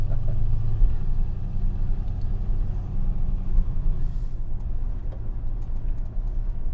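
A Rover P5B car drives along with a low, smooth engine rumble and road noise, steady and fairly loud throughout, with the tone easing slightly midway.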